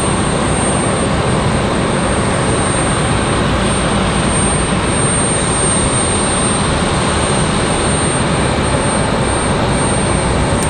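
A Delta jet airliner crosses at Raleigh-Durham airport on a stormy day, its engine noise a steady, even roar from start to finish with no voices.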